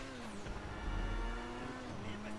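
Car engine accelerating in GTA 5 Online, a steady droning motor tone that holds and swells slightly as the vehicle picks up speed, fairly faint and continuous with no talk over it.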